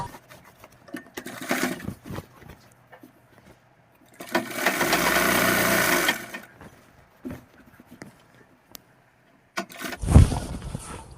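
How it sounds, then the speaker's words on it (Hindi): Sewing machine stitching a half-inch folded waistband on men's underwear, with a steady two-second run of motor whir amid quieter handling clatter and a brief thump near the end. "हाफ इंच मोड़कर हम इसमें सिलाई लगा लेंगे।"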